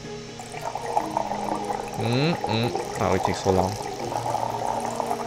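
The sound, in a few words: water pouring in Cooking Simulator video game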